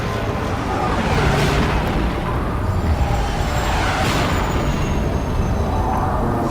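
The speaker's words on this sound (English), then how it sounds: "The sonic booms peppered the air." Sonic booms from swarming ships in the sky during an audiobook sci-fi scene, heard as broad rumbling blasts that roll through a loud, continuous wash of low noise, with swells around two and four seconds.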